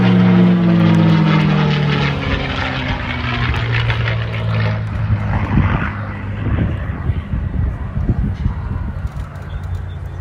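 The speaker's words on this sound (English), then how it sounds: "it's actually an Australian Commonwealth Aircraft Corporation built CA-18 Mustang Mark 21" CA-18 Mustang Mark 21 propeller fighter, Australian Commonwealth Aircraft Corporation built, passing at an airshow; a loud droning piston engine roars close at first, its pitch sliding down as it recedes into a fainter rumble.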